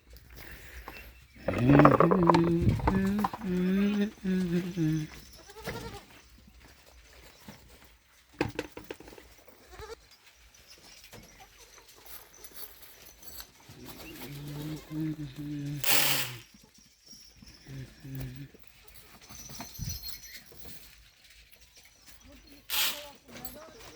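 Several goats bleat loudly nearby in a stall-fed goat farm, one long wavering call early and another later, separated by quieter rustling and scattered speech.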